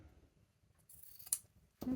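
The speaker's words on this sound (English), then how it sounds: "So I normally find that doing it with scissors is probably what I end up doing." Scissors snip through the loose ends of fabric quilt binding in a quiet sewing room, giving a few faint, brief cuts followed by a louder closing snip at the end.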